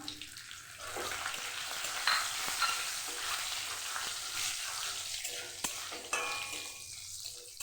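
Five-spice (panch phoron) and dried red chillies fry in hot oil in a pan, making a close, steady sizzle and crackle. A few stirring clicks and scrapes break in at times, with no talking.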